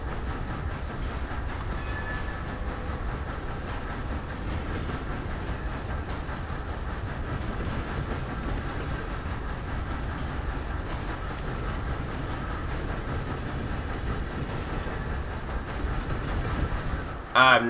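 Train running in Red Dead Online, a steady loud rumble of wheels and rattling cars rolling along the tracks for the whole stretch, ending in a brief sharp burst at the close.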